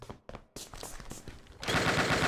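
Gunfire in the FPS Creator game Darkest Island, a few sharp separate shots early on, then a loud sustained stream of rapid automatic fire closing out the moment.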